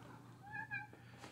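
A cat gives a single soft, drawn-out meow from nearby in a quiet indoor room.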